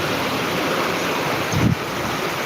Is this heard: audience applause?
no